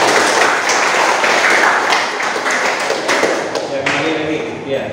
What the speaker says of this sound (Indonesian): kasih aplaus untuk Aditya.